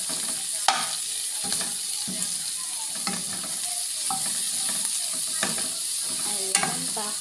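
Garlic and onion sautéing in a pan for ginisang monggo, a steady sizzle with repeated spatula scrapes and clicks against the pan at a regular pace, up close.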